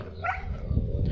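Dogs on a rural village road in Kalotaszentkirály, Romania, bark and yip close by, a short burst of barking over low rumbling background noise.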